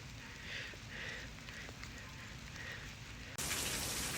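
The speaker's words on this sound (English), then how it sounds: "I'm out here in the rain." Steady rain falls outdoors on a residential lawn, a soft, even hiss that holds for several seconds before surging suddenly louder and brighter near the end, as if the downpour has intensified or moved closer. No voices are heard.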